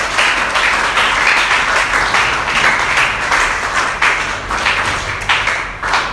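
A church congregation applauds together, a dense, loud, sustained wash of clapping that rises and falls slightly over several seconds with no clear speech.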